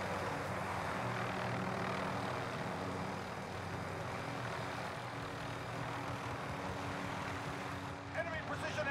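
Rotor and engine drone of a helicopter in a Call of Duty match, a loud steady wash of noise throughout, with brief clattering sounds near the end.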